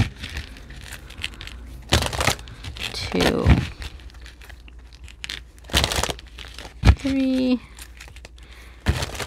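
Tarot cards shuffled by hand in a series of brief broadband riffling bursts, each a second or less, separated by pauses, with a voice counting between them.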